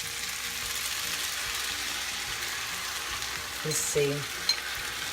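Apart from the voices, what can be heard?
sauce added to sizzling chicken lo mein in pan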